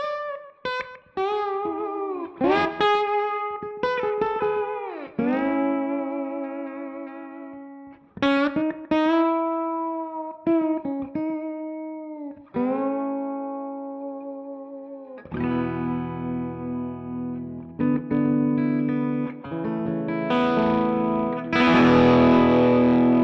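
Electric guitar played through a Universal Audio amp top box with effects, a continuous run of melodic phrases and chords with distortion and a modulated, echoing tone, loud and steady without any talking.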